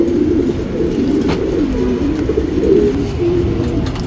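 A copper-coloured male pigeon, a single-tailed bird, coos in low, rolling phrases close by, repeating steadily over a faint background.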